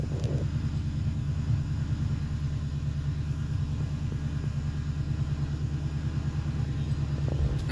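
Car engine idling too high at around 1,200 rpm with a fuel system fault, a steady close low rumble with a fast even pulse and no pauses.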